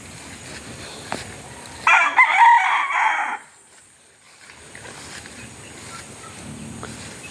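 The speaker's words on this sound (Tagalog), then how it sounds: "Manok na pula, kumakain na siya." A red rooster crows once, loud and fairly close, a bright drawn-out call over quiet outdoor ambience.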